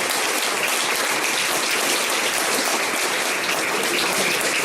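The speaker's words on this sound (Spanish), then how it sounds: "Un fuerte aplauso a Cristo, mis hermanos." A church congregation claps continuously during a Sunday sermon, producing a dense, even wash of applause with no pauses.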